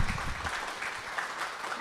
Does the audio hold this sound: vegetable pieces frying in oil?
no